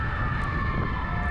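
A French police car siren blares as a steady, piercing tone over a low traffic rumble, loud and continuous through a brief stretch.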